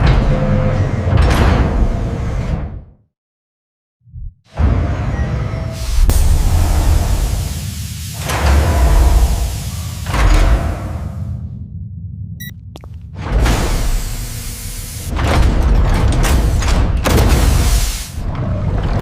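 Massive steel bank vault door locking bolts engaging, a series of loud heavy metallic slides and thuds with rumbling hydraulic noise, broken by a brief silence, no voices.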